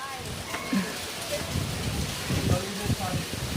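Heavy rain pours steadily in a village setting, a dense continuous hiss with scattered patter, while people talk and shout over it throughout.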